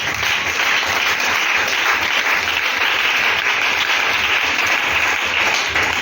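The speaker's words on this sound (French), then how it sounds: "Acclamons encore Jésus" A church congregation applauds steadily throughout, a dense, continuous wash of clapping from many hands with no voices rising above it.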